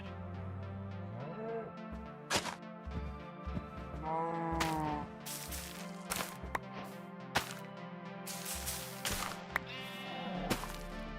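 Sheep bleat several times inside a video game, wavering calls set among sharp whip-like cracks and other game noises, with scattered low-level background sound.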